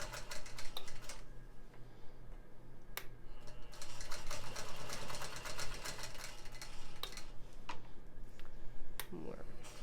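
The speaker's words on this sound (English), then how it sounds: "You can see the long arm is bumping a bit as it goes over some of those bumpy seams." A longarm quilting machine stitches slowly over bumpy quilt seams, giving a quick mechanical whir with sharp, irregular clicks and knocks while a person talks over it.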